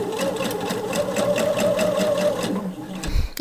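A sewing machine runs a rapid, even basting stitch on knit fabric, a close, steady mechanical whirr with fast rhythmic needle ticks that winds down near the end, followed by a brief clunk.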